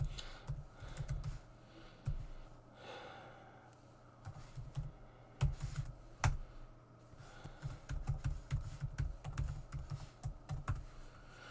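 Quick bursts of clicking keystrokes on a computer keyboard, typed in uneven runs with short pauses between, close and moderately loud, entering a Linux command.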